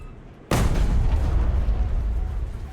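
A heavy cannon shell strikes a battleship turret in a video game, giving one sudden loud boom that rolls on as a long rumbling blast.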